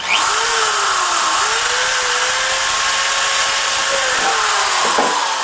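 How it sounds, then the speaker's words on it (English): A loud, steady power drill whine runs continuously while drilling a Ford F150 air intake, its pitch dipping briefly as the bit bites, with no talking over it. "Okay, drilling right in there."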